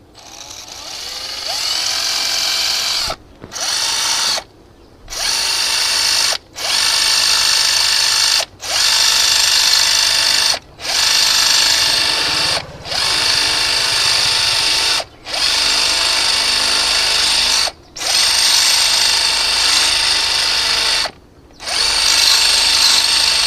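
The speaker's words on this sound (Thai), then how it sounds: "ก็จะใช้ โหมด เจาะทั่วไปนะครับ จะไม่ใช่โหมดเจาะกระแทกนะครับ" A power drill in standard, non-hammer mode bores into a glass bottle, whining steadily in long bursts, stopping briefly about ten times, each pause followed by the motor spinning back up. It is loud and close.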